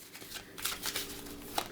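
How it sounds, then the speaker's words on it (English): A small deck of ten game cards gets shuffled by hand, quiet crisp riffling bursts and soft flicks close up over about two seconds, with no talking. "Each player will shuffle their deck of 10 cards"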